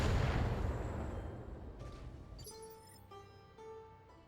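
Mech weapons fire in the BattleTech tactical combat game: a loud booming blast that rumbles and fades, then a sharper burst followed by several tonal electronic pulses.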